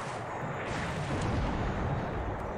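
Torpedoes fire during a naval battle in the War in the Pacific game, heard as a continuous heavy, rumbling boom with a dense low roar that swells slightly and sustains throughout.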